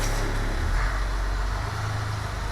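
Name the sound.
International DT466 diesel engine of an old school bus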